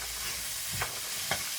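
Carrot pickle mixture is stirred in a pan, a soft continuous sizzle with two brief scraping strokes of a spoon, close and with no talking.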